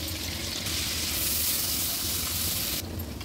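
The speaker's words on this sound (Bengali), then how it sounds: "এই কড়াইয়ে দিয়ে দিচ্ছি ছোটো সাইজের 2টা পেঁয়াজ কুচি" Two small chopped onions hit hot oil in a wok (karai) and sizzle loudly and steadily at close range, a constant hiss with slight surges and no talking.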